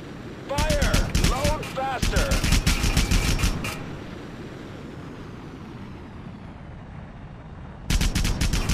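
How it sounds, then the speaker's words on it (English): Gunfire in Wings of War, a modern warplanes combat game: long, rapid machine-gun bursts rattle loudly in two stretches, then a third burst arrives near the end, with a steady jet engine roar underneath and faint whistling tones. "We are under fire."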